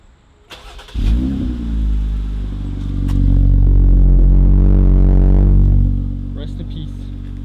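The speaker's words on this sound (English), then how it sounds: "One last quick startup sound of the exhaust before I remove it." A Jeep engine cranks and catches after a second, idles roughly, then revs loudly and holds high for a few seconds before settling back to a rumbling idle, close and without talk.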